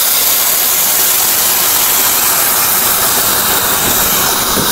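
Hot water poured into a pan of frying pond fish and taro curry sets off a loud, steady sizzling hiss of steam that runs unbroken and close throughout.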